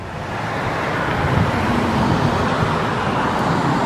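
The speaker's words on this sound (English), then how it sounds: "Got cars going by." Steady roadway traffic with cars passing by, a continuous close wash of tire and engine noise that swells slightly in the middle and holds without pauses or voices.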